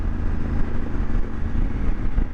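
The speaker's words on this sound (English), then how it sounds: "Oh, that noise of that engine and the exhaust, when you let off it just gargles and gargles for days." Honda Africa Twin motorcycle engine and exhaust running steadily close by, a low gargling rumble with throttle pulses, loud and continuous with no talk.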